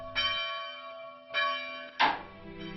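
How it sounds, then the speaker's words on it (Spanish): An old church bell of San Luis tolls three measured strokes, each a bright ringing clang with a lingering hum, close and alone without voices. "Todos se rigen por el toque acompasado de una vieja parlera, como llaman a la campana de San Luis."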